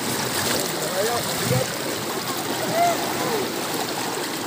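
Strong current of a deep, high river rushing past, a steady broadband roar of flowing water with occasional splashes, close and loud throughout.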